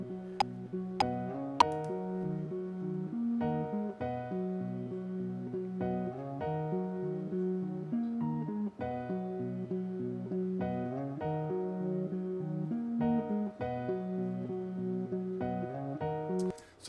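Quantized MIDI notes of a verse play back on a software instrument, a steady, even pattern of tuned notes locked to a grid, with crisp attacks and sustained tones at a constant moderate level and no voices.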